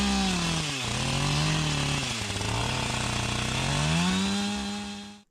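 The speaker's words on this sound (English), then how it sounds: "The chainsaw is wicked dull" A dull chainsaw cuts up a dead tree for firewood on an Alaskan trapline, its loud, close engine droning steadily with pitch dips as it bogs into the wood, then trailing off at the end.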